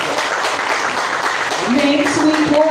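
Steady applause from a school audience at a storytelling contest at SMPN 1 Bengkayang, greeting participant number 12. The dense clapping runs throughout, and a speaking voice rises over it near the end.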